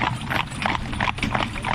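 Horses turned out in a field move about with soft, uneven clip-clop hoofbeats and shuffling, heard at a moderate distance over outdoor ambience.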